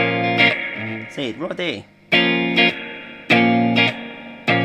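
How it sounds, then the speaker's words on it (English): Electric guitar notes ring out through a Boss FDR-1 Deluxe Reverb pedal, heavy reverb swelling and lingering, with a short spoken remark in between the chords. "The reverb sort of takes off for some weird reason"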